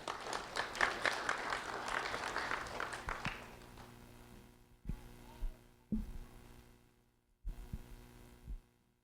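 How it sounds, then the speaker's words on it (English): Applause from a crowd, dense clapping for about three seconds that fades out, followed by scattered thumps and quiet room noise. "a round of applause for Juana Lux-Pu, please."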